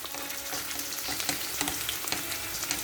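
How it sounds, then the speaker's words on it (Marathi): Finely chopped small onion, garlic and curry leaves fry in hot oil for a Malvani pomfret curry, giving a steady, close crackling sizzle with a few sharper pops, with no voices. "आता आपण घालतोय एक छोटा कांदा बारीक चिरलेला"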